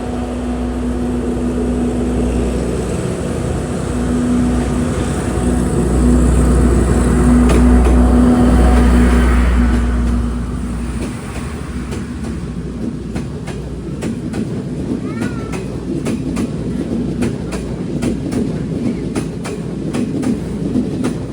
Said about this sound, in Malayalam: ഒരു ട്രെയിൻ കടന്നു വരികയാണ്, ലൈറ്റൊക്കെ ഇട്ട്.